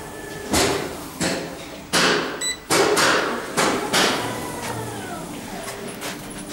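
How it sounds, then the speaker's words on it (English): A lift door in a Massey University Wellington campus elevator, with a glass-walled shaft, closes in a run of separate thumping clunks and sliding bumps, about six in a row, heard up close with one brief electronic beep partway through. "Door closing."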